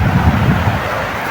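Strong, cold wind buffeting the microphone in low, rumbling gusts, loud and close, with no voices.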